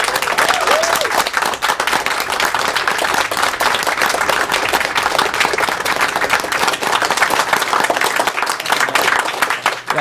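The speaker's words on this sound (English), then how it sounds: "They deserve an extremely big round of applause for what they just did." A big, dense round of applause with cheering fills a live charity speedrunning marathon hall, honoring the team behind a 100% Metroid Prime run; it holds loud and unbroken for the full length.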